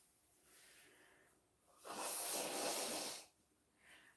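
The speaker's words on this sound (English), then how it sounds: "gotta blow my nose again" A person blows their nose in one forceful, breathy gust lasting about a second and a half, close and fairly quiet, with softer sniffs and breaths before and after.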